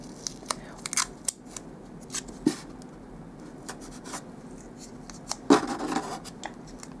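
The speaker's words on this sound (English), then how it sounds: "take your masking tape and tear it" Masking tape being torn into pieces by hand, with a few sharp, close ripping bursts standing out over quiet crinkling and handling noise, and no talking.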